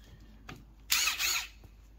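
A power drill briefly whirs as it drives a 4-inch GRK structural bolt into a wet wooden deck railing post, one short loud burst after a couple of faint clicks, with no voices.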